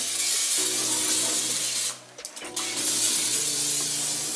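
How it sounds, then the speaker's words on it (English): Hissing bursts of cooking oil spray into a cake tin, loud and close, broken by a short pause, over a steady low hum. "I'm just gonna spray it around"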